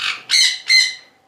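Pet conures at a bird farm, pineapple and yellow-sided types, give three loud, close, harsh squawks in quick succession, each sharp and rasping.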